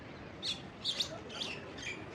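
Several short, high bird chirps in quick bursts, fairly faint and outdoors over a soft background hiss, with no talking, in Lalbagh Botanical Garden, Bengaluru.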